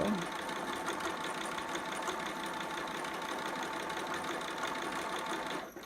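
Sewing machine stitching fabric for a two-piece baby sitter outfit, a constant close motor hum and rapid needle rattle running steadily before stopping abruptly at the end.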